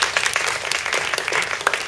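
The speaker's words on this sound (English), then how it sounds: "Could everyone join me giving the panelists a round of applause" Audience applause for conference panelists, a dense burst of clapping heard close and loud throughout the short stretch.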